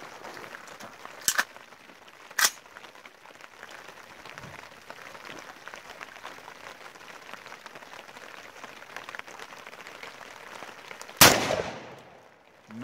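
Three sharp gunshots fired at a bulletproof Android tablet, two close together near the start and a louder, harsher one after a long pause, with a faint rustling background between them.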